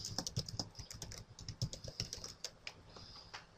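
Rapid typing on a computer keyboard, a steady run of close, crisp key clicks with an uneven rhythm and no voices.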